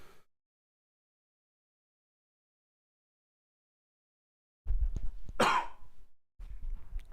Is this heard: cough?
yes